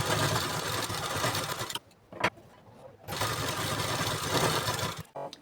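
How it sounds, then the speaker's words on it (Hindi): A sewing machine runs top-stitching along the edge of a katori blouse in two steady, whirring runs of stitching, separated by a short pause with faint handling noise. "इसके ऊपर पे हमें 2 लाइन से टॉप सिलाई लगानी है"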